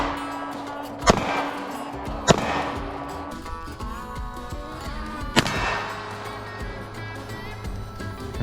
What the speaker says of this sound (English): everybody just brings a couple of guns and we go plink some metal